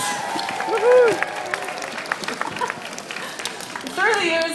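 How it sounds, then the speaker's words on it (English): Audience clapping and cheering after a dolphin display at the Vancouver Aquarium show, a broad wash of applause with whoops and crowd noise, while an announcer's amplified voice carries over it. "Can we give them a big round of applause?"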